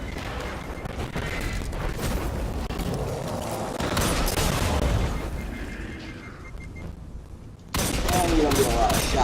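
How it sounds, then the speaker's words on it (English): Heavy hand cannon gunfire in a first-person shooter video game, dense bursts of booming shots and battle noise throughout, loud and close, with a sudden louder volley near the end. "Hand cannons are usually one of the best things to use against these guys just because they're so powerful."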